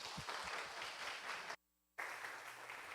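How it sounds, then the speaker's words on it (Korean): A church teachers' seminar audience applauds to welcome a pastor to the stage, steady dense clapping filling the room, briefly cut to silence midway before resuming. "우리 박수로 환영하겠습니다."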